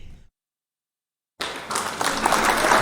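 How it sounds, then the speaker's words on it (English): Applause sound effect on a live-stream show, played after a brief moment of silence and swelling to a steady, dense clapping that grows louder toward the end. "Hit the claps for Joe Jackson."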